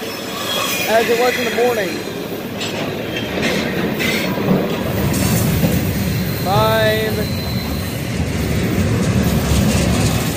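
A freight train rumbles past close by with a steady roar, and its wheels squeal now and then. Someone speaks briefly over the noise.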